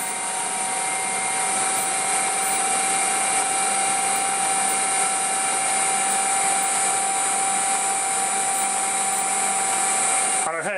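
A 0.75 kW Mechtric three-phase electric motor spins at high speed, near 90 hertz, with a loud steady high-pitched whine and a constant tonal hum that holds evenly throughout before a brief pitch shift at the end.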